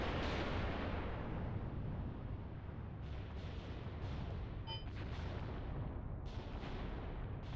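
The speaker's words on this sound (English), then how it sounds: "there's several salvos from these Katyushas, all in the same place" Katyusha rocket artillery salvos in the WW2 tank combat game Mius Front: a dense, continuous roar of overlapping distant blasts and rumbling impacts, with sharper cracks breaking through now and then.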